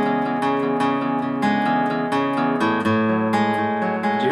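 Acoustic guitar plays the end of measure 4 into measure 5 of a song, a steady rhythmic strummed and picked pattern with accented chords and ringing bass notes, close and loud throughout.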